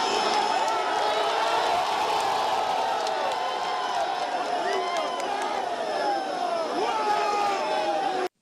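A large crowd of political supporters in Bauchi cheers for Governor Bala Mohammed, a dense continuous roar of shouting voices and whoops with scattered whistles, steady and loud throughout.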